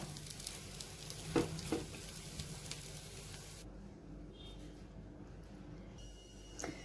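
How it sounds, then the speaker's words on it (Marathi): A sabudana paratha roasting in ghee on a hot pan, a soft steady sizzle with faint crackles, close but low, with a few brief knocks early on. "आणि आता थोडासा गॅस मोठा करून आपण दोन्ही बाजूनी हा पराठा छान भाजून घेऊया."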